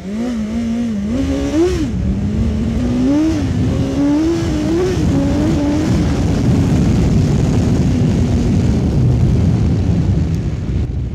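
A BMW S1000XR motorcycle engine on a test ride hums loudly up close, its pitch rising and falling with throttle and gear changes before settling under a wash of wind and road noise.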